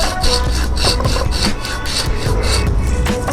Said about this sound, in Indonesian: Ini dia akan saya potong dengan gergaji